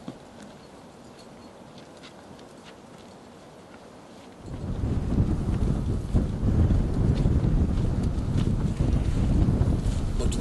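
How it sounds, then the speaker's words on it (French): Wind buffets the microphone on the Hörnli ridge of the Matterhorn, a low rushing roar that starts moderate and swells abruptly into a strong, steady gust halfway through. "Vraiment, il y a un peu de vent quand même."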